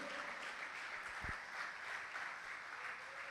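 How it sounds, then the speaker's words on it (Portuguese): A church congregation at a sermon claps together in a steady, diffuse wash of applause heard at a distance and fairly faint, with a single brief low thump partway through. "Vamos aplaudir ao Senhor por isso"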